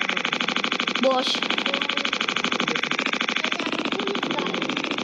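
A police motorbike engine idles nearby with a fast, even, buzzing putter, while someone talks over it and calls out to someone.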